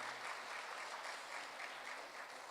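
At a mayor's education awards ceremony, the crowd applauds an elementary school being honored, an even, continuous patter of many hands heard from a distance at low volume, with no voices over it.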